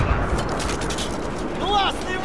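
A booming gunshot-like blast rings out amid a noisy battle soundscape in the video game Battlefield 4 on PS4, with a rising whistling tone near the end and no clear talk.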